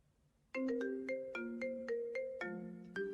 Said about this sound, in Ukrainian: можливо, це телефонує Даринка з Андрійком